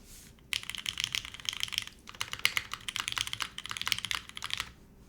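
Typing on an ORI CLS-3//60 custom mechanical keyboard, a dense rapid clatter of crisp key presses in bursts with brief pauses, close and clear with no talking.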